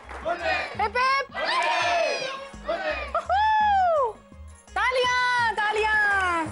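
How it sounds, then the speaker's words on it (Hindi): A group shouts "hip hip hooray" cheers at a family wedding music program in a television drama, with call-and-response bursts of loud voices repeated several times over music, close and energetic. "Three cheers for अजोबा। Hip hip hip hip hip hip."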